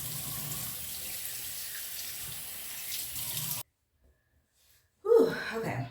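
Running tap water rinses a face mask off skin in a steady, close rush of splashing for a few seconds. It stops abruptly, and after a pause there is a short breathy exhale.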